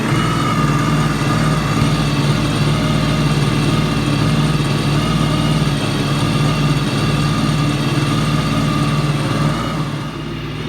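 A jet ski engine that was recently recovered after sinking idles steadily while it warms up, giving a loud, close, continuous rumbling drone with no talking.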